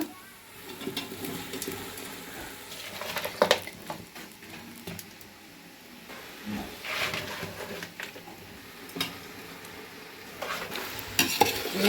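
Mutton is added to a hot pan of village-style curry and stirred, giving irregular scraping, squelching stir sounds over a soft sizzle, with louder bursts as the meat is turned, close by and without voices.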